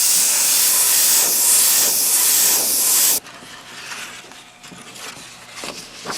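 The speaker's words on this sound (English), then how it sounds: "Spray the top part." An aerosol spray can hisses loudly and steadily while painting a beveled edge through a stencil, then cuts off abruptly halfway, leaving quieter handling noises.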